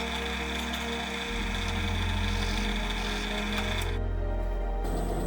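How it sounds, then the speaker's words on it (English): A steady mechanical whir of a drill boring 6 mm holes in a plastic lid, close and loud, with a brief change in pitch near the end. "We mark the holes and drill 2 6-mm diameter holes."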